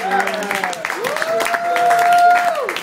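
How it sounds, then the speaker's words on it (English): An audience claps at a stand-up comedy show at Posse East, with a steady wash of applause and crowd noise under a person talking and a sustained tone rising through it. "thank you very much for clapping"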